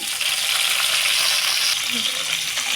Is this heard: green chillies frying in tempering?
yes